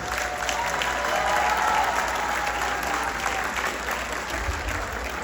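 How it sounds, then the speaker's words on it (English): A crowd at the Tiregan Festival, an Iranian celebration in Coquitlam, Canada, applauds the organizers with steady, dense clapping throughout, a faint tone briefly audible early on. "How about a big round of applause for Bezad and the organizers"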